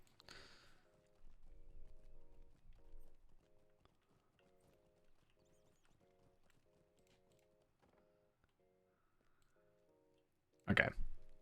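A horse's hooves clip-clop in a steady, regular rhythm while riding in The Lord of the Rings Online, fairly quiet under the game's ambience, with a louder burst at the very end.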